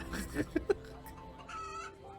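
A chicken clucking in a few short, quick bursts, quiet and close, over faint background noise.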